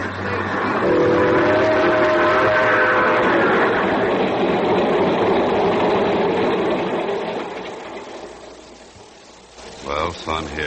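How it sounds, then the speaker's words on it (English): Train pulling out of a station as a 1940s radio drama effect, loud rumbling wheels and rolling clatter with a whistle-like tone, swelling then fading after several seconds, a voice coming in at the end. "sitting in the observation car of the train just pulling out for Palo Alto, California"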